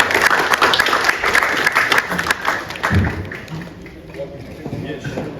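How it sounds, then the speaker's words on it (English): Applause ripples through the audience at a UK-China international photo competition event, a moderate burst of clapping that fades within a few seconds as the room settles. "a little round of applause for Zhang Hai as well."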